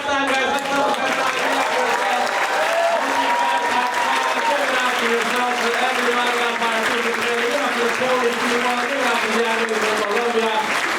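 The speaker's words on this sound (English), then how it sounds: "Round of applause for the young lady. Give it up for her." Audience at a live stand-up comedy show in Canada giving sustained, dense applause and cheering throughout, with a voice carrying over the clapping.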